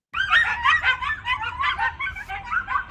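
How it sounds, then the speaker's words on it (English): Coyotes yip, howl and chatter together at night in a steady high-pitched chorus that carries on without pause, sounding like a whole pack heard from some distance. "So these are my wild dogs."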